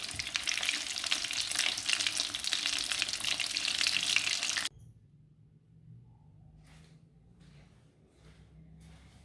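Potato and egg kebabs fry in hot oil, giving a loud, dense sizzle for about half the stretch before it cuts abruptly to a faint low hum with a few light clinks.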